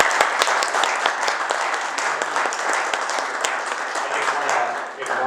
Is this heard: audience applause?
yes